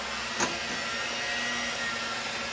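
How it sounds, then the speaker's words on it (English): An electric mixer runs steadily at low speed, beating eggs into orange coffee cake batter. A faint, even whir holds throughout, with one brief soft knock near the start. "while we're mixing, so first we're gonna crack in the egg. And then we're gonna mix."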